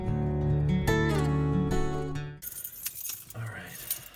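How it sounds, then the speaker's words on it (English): Car keys tossed from one person to another give a short metallic jingle amid a loud musical passage, and voices follow afterward. "Ben, toss me the keys!"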